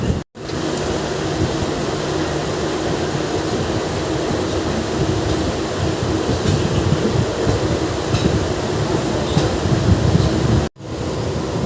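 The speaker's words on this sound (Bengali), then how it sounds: "সামনে দিয়ে চলে যাচ্ছে শিয়ালদা শিলচর কাঞ্চনজঙ্ঘা এক্সপ্রেস" The Sealdah–Silchar Kanchanjunga Express rushes past near Belgharia station, heard from aboard a fast local train: a loud, continuous roar of wheels and carriages that holds steady for several seconds before cutting off abruptly.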